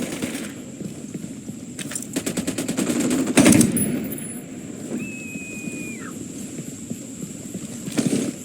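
Machine gun fire in the video game Ghost Recon rattles in a rapid burst of closely spaced shots, followed by a louder single blast over steady background game noise.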